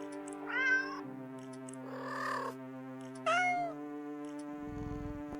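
Cats in the video game Do Not Take This Cat Home meow in three short, clear bursts over a steady musical drone, followed by a faint low rumbling at the end.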